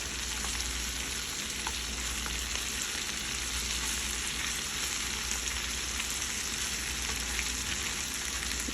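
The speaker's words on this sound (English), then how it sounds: "I'm just gonna let this simmer for a minute" Scallops simmering in a pan on the stove give off a steady, dense sizzle and crackle that holds at an even level throughout, close by, with no talk.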